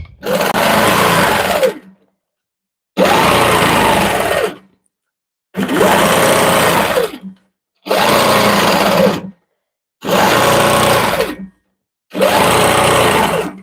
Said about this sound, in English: I am stitching in like regulated mode, so the machine is keeping up to me like as fast as I move.